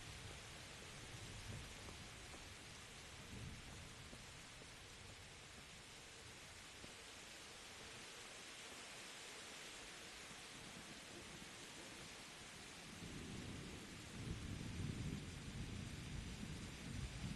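Steady rain with low rumbling thunder in the medieval open-world game Kingdom Come: Deliverance, a continuous wash of downpour that swells with heavier rolling thunder near the end, no voices.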